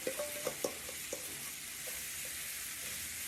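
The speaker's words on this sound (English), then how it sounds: "going to start cooking these cherries up" Fresh cherries with sugar cook in a pan, a steady sizzling bubble with a few light clinks of stirring early on, close and moderately quiet.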